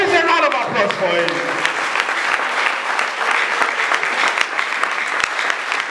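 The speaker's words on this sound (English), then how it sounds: "Please a round of applause for him." Audience applause at an award ceremony, loud continuous clapping with scattered sharp claps, which starts while a voice is still trailing off and then carries on alone.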